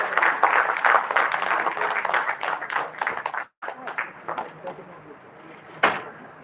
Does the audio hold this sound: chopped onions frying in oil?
no